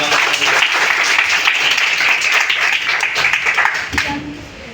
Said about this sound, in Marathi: तर तिचं सुद्धा टाळ्या वाजवून